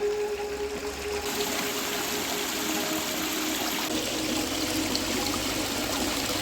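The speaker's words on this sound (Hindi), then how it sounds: "देखिए ये है खूबसूरत सा हिडन झरना जो कि भूतनाथ मंदिर के पीछे बहता है।" A small hidden waterfall of natural mountain water running behind Bhootnath temple gives off a steady, close rushing and splashing that continues without a break, with no voices.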